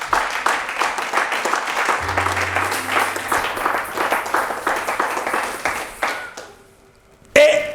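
A church congregation applauds with steady, close clapping for several seconds. The clapping fades out near the end, when a voice briefly starts.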